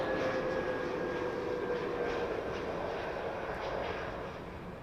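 A Boeing Dreamliner jet landing at Heathrow, a broad steady engine roar with a faint whine on top, heard from a distance and easing slightly toward the end.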